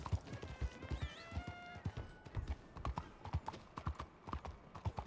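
Horse hooves clip-clop in the video game Red Dead Redemption 2, a run of quick, sharp, uneven hoof strikes close by, with a faint tonal whine and some game sounds in the background.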